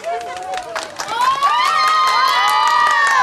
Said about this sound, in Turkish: bir alkış istiyorum